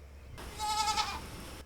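A single goat on a small Tennessee homestead bleats once, a wavering nasal call lasting about a second, fairly close against a quiet background.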